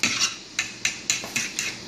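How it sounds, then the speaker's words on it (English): A fork clinks against a bowl while eggs are whisked, a series of about six sharp metallic taps in an uneven rhythm, close and clear, with no talking. "Just keep whisking those eggs."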